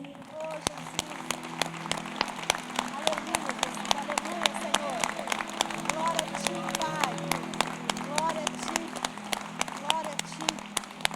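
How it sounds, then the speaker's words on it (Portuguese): A church congregation claps together during a Thursday worship service, a sustained rhythmic patter of many hands with sharp individual claps standing out, under music and voices. "Uma salva de palmas para o nosso Deus."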